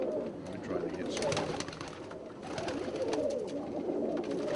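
Danzig high flyer pigeons coo in low, rolling phrases, several birds overlapping steadily and close by in a loft, with no one speaking.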